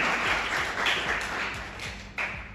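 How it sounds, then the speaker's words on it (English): Applause from an audience at a university debate competition, a dense wash of clapping heard at moderate volume throughout, steady with slight swells. "So a huge round of applause for him as well."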